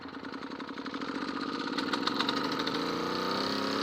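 A single-cylinder engine with a decompression lever fires up after being fitted with electronic ignition, a rapid chugging beat that quickens and settles into a steady idle, close and loud with no talk.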